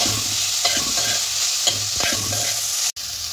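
Banana flower with chopped ginger and chili is stirred while frying in a pan: a bright, steady sizzle with a few distinct scraping strokes of the spatula, close up and without speech.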